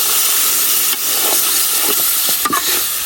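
A little water poured into a hot pan of frying spiced pangas fish, giving a loud continuous sizzle and steamy hiss with a couple of brief splashy bursts near the end.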